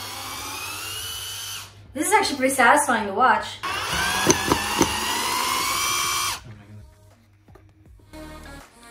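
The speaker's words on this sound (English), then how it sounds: "The only time I've ever used this drill was to build the beast maker." A cordless power drill whirs in short bursts, then runs in one longer steady spin, with someone talking just before and between.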